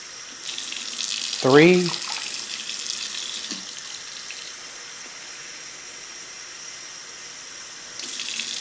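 Water runs from a kitchen tap into a pot as a steady hiss that starts, briefly rises, then continues evenly, with a short spoken word near the start.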